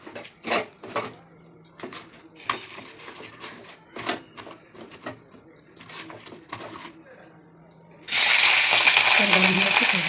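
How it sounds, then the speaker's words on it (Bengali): People talk amid clattering kitchen noises, then fish drops into hot oil in a pan and breaks into a sudden loud, sustained sizzle. "চলো মাছটা ভেজে নিই"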